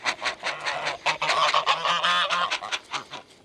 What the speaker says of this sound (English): Come here, geese. Get you guys away from the goats.